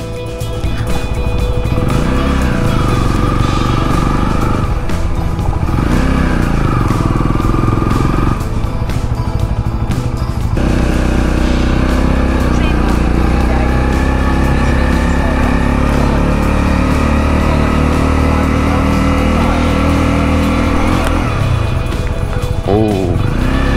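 A Honda CL 250 Scrambler motorcycle engine while riding up a steep ramp in second gear, a loud continuous drone that rises and falls with throttle changes, close and unbroken, with faint talk underneath.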